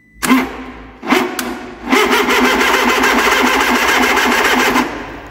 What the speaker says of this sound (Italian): Test numero 2 con motore di avviamento appena rubato